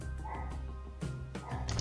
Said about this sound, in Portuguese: Cachorrinho aí no fundo.